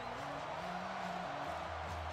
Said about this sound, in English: The Wisconsin crowd is in it right now.